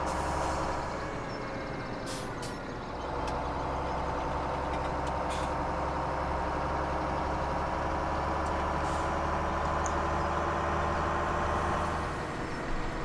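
Truck engine in Farming Simulator 17 drones steadily and loud for the whole stretch, a continuous low rumble with a faint whine, plus a couple of brief hissing bursts like air brakes early on.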